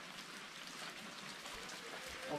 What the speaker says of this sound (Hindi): पीछे में बारिश धीरे धीरे थोड़ा थोड़ा गिर रहा है।